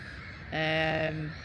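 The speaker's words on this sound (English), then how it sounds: "most of the noise is coming from the black-headed gulls" A loud, harsh black-headed gull call rises suddenly over a busy outdoor background at a nature reserve, a single drawn-out squawk lasting under a second.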